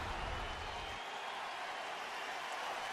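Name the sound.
baseball crowd applauding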